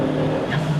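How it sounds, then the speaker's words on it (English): A Toyota Starlet Glanza V with a modified intake and blow-off valve drones under load, a loud, close, steady engine note heard briefly from inside the car. "you can hear all the sounds coming from the engine"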